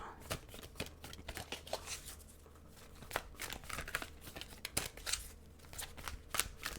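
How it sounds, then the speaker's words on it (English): A deck of tarot cards, awkward to handle, is shuffled by hand in a quiet room, giving irregular soft riffles, flicks and papery slaps that come in uneven bursts. "this deck is really kind of awkward for me to shuffle"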